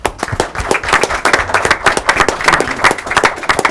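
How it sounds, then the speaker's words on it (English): An audience at a city council meeting claps for an organization being honored, a loud, close burst of dense applause that holds steady throughout. "Round of applause, please."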